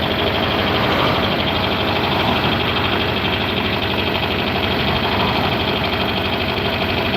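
A common American farm tractor idles close by, with a loud, steady diesel chug and a rattling vibration throughout and no voices.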